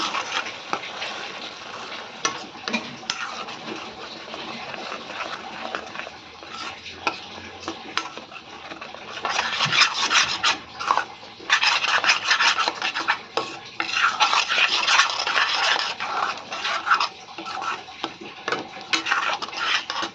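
Butter paneer is stirred and scraped around a pan in steady rasping strokes, growing louder and busier midway, close up with no talking.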